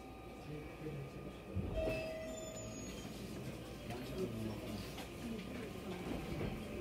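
A JR Kyushu Kashii Line local train departs from the platform, with a steady mechanical rumble and rail noise continuing under a brief tone and station ambience, fairly distant and even in level.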